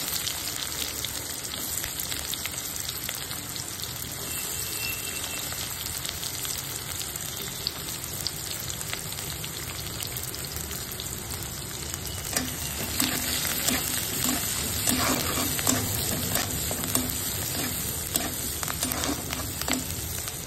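Chopped onions with cumin seeds frying in hot oil in a home kitchen pan, a continuous bright sizzle with occasional scrapes and clicks of stirring, growing busier and louder partway through.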